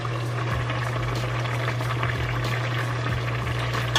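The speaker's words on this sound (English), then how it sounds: "So they are bubbling good" Collard greens boiling in a pot on the stove make a steady, busy bubbling and simmering with a constant low hum underneath, heard close up and without talk.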